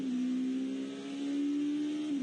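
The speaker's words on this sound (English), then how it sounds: "The buzz and the zing of that 2-liter turbo" Steady, loud engine buzz from a 2-liter turbo race car at the Rolex 24 at Daytona, a sustained droning tone holding nearly constant pitch with a slight dip near the end, no talk.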